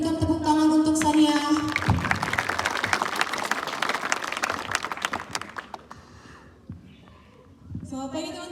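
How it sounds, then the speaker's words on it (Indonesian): Applause for a student at a junior high school morning assembly in Pangururan, a crowd clapping loudly between stretches of amplified speech before and after. "Berikan tepuk tangan untuk Sania."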